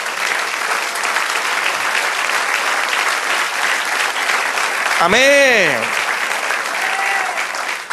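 A church congregation claps steadily in a loud, dense wash of applause, while a voice near the end says a brief word over it.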